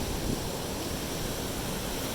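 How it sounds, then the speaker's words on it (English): Powerful ocean surf breaks against an eroded beach below a cliff in San Juan, Puerto Rico, a steady broadband roar of crashing water and wash filling the whole moment, with some wind noise and no talk. "Here you can see the waves get powerful, because look at this cliff here."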